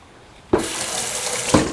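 Water gushes suddenly from a kitchen sink tap after half a second and then runs in a loud, steady stream, with a brief splashing bump near the end as hands move under it.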